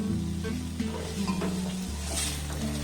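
A spoon stirs salt, turmeric, cumin powder and garam masala through the ingredients in a frying pan for a leftover roti dish, with close scraping and clinking over a continuous soft sizzle.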